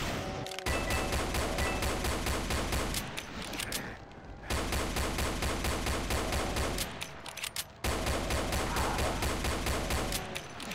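Weapon fire in the Doom mod The Golden Souls 2, a video game: loud rapid volleys of shots in long rhythmic bursts, broken by short pauses, with mechanical clatter between them and no talking.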